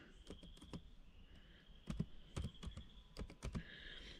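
Computer keyboard typing, a series of close, quiet key clicks in irregular bursts with short gaps between them.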